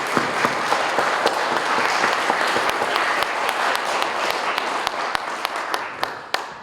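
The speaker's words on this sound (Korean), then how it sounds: "한 번 더 크게 박수로" A church congregation at a Sunday worship service bursts into loud, sustained applause, a dense wash of many hands clapping steadily for several seconds.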